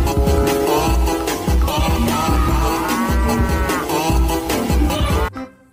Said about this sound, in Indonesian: Wow, ada sapi perah.